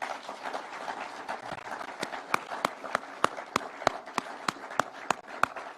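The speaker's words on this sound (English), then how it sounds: "Can we clap for these people?" Applause at a Kenyan political gathering, scattered clapping building into sharper, distinct claps over a steady crowd murmur, moderately distant and fairly quiet.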